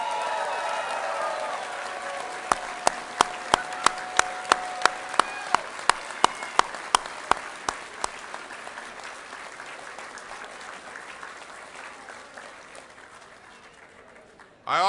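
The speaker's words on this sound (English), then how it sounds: "a big round of applause" A crowd at a senator's victory speech gives a sustained wash of applause with a steady run of sharp, regular clicks through its early part. The clapping gradually thins toward the end.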